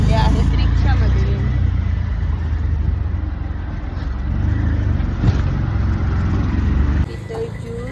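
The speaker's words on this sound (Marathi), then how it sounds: "आता मला सोडायला चालले आहेत रिक्षामध्ये" An auto rickshaw ride carries a steady engine drone and road rumble close up, with voices murmuring inside the cabin.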